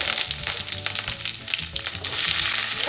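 Mustard seeds, cumin and curry leaves fry in hot oil for a poha tempering, giving a loud, continuous sizzle with crackling spits that swell toward the end.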